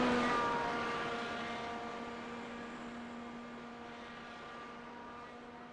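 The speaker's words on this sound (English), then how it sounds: "there you could hear the car, the pitch of the engine changed, and off and away he went" An open-wheel race car engine on its warm-up lap during Pole Day qualifying for the 2024 Open-Wheels 500 gives a steady, droning harmonic whine that slowly fades as the car pulls away into the distance.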